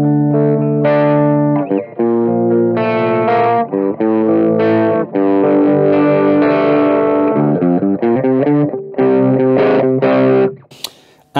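Electric guitar played through an Eastrock ODRIVE-II overdrive pedal set up like a tube screamer, into an amp's drive channel: loud, sustained distorted chords and riffs that ring continuously, with a brief pause near the end.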